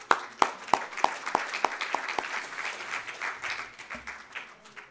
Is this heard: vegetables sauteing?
no